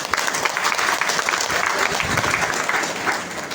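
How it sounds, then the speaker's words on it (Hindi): Enthusiastic audience applause for a guru at an RCM achievers' gathering, a dense, steady burst of clapping from a crowd, loud and close throughout. "मेरे गुरुदेव श्री प्रेमनाथ सर के लिए जबरदस्त तालियां"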